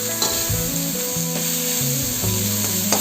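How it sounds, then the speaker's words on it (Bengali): Finely chopped potatoes and vegetables frying in a pan for masala Maggi noodles, a close, steady sizzle with stirring scrapes and faint tonal hum, no voices. "খুব ছোট করে কেটে রাখা আলুগুলো দিয়ে দেবো, দিয়ে এটাও ভালো করে ভেজে নেব।"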